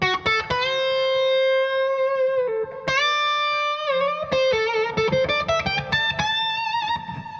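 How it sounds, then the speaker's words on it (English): Electric guitar notes ringing through a delay effect, each plucked note followed by fading repeats that trail into the next phrase, clear and alone. "Here's now adding the delay"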